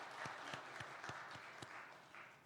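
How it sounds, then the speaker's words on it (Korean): A church congregation applauds the choir at a Sunday worship service: faint, scattered claps with a few sharper hits, fairly distant and steady for a couple of seconds. "우리 찬양대원들에게 격려 박수하겠습니다."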